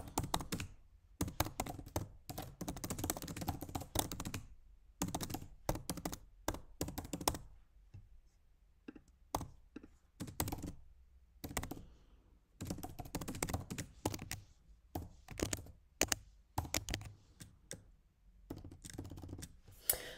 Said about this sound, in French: je vais soit taper, soit copier-coller la teneur de la résolution